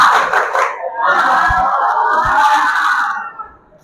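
A school group of students from SMPN 198 Jakarta shouts a loud spirit cheer in unison, a sustained chorus of young voices broken by a few sharp claps before it trails off.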